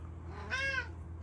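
A cat in a workshop gives a single clear, fairly close meow with a rising then falling pitch over a low background hum.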